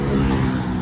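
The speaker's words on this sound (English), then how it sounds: "Sorry for the noise, we're on a major road" Steady low rumble of traffic on a major road, engines droning continuously and fairly loud, with no distinct passes standing out.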